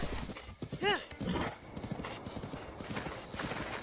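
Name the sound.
horse galloping and neighing in video game Breath of the Wild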